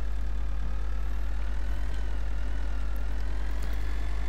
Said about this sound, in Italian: vanno su anche i giri del motore